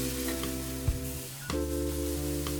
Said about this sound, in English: sizzle sound is exactly what you want to hear.